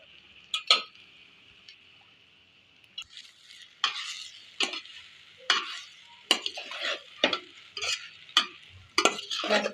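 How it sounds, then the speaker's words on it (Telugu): Cooked rice being stirred and folded through grated raw mango in a pan for mango pulihora, with a run of scraping, clinking spoon strokes against the metal, close and irregular over a faint background hiss. "స్లోగా మెల్లగా కలుపుకోవాలి."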